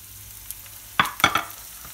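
Potato pieces frying in oil, a quiet bubbling hiss broken by a few sharp close clatters and scrapes near the end, with no one talking.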